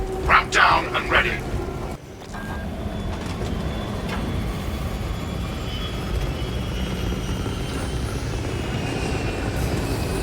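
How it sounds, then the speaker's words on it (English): A Thunderhawk gunship from Warhammer 40,000: Space Marine 2 arrives with a sustained heavy engine roar and rumble. A voice is briefly heard at the start before the engine noise carries on. "Thunderhawk arriving at evac point"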